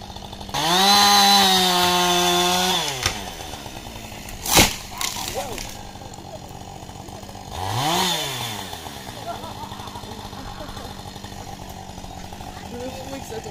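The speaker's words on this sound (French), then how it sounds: "Heureusement qu'on a inventé les tronçonneuses." Chainsaw cutting a tree out of a hedge, engine revving loud for two seconds then dropping, a sharp crack, and a second rising and falling rev, with people talking throughout.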